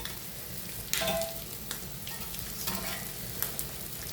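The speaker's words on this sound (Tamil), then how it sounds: "இந்த முட்டை வந்து பொறிச்சிட்டு குழம்பு வச்சிங்கன்னா டேஸ்ட்டாக இருக்கும் அதுக்காக நான் பொறிச்சிட்டு வைக்கிறேன்" Eggs frying in a pan for a Tamil egg curry, a soft steady sizzle with a few brief scraping stirs and light clinks, close by with no talking.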